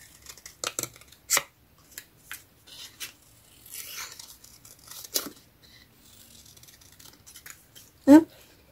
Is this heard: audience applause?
no